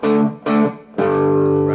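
Electric Telecaster played on the treble pickup with volume and tone fully up and a light touch of distortion: two short chunky strummed chords, then a third left ringing, close and loud with no voices.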